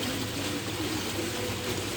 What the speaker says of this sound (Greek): τον ήχο του νερού που κυλά σε μια κρίνη εδώ δίπλα